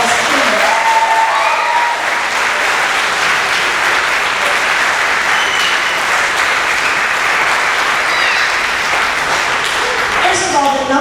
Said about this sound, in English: Let's give them another giant round of applause, please.